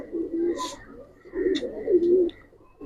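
Pigeons cooing at a pigeon market where khaki, silver and lalpatti birds are sold, several low bubbling coos in repeated swells, fairly close and moderately loud, with short higher chirps between them.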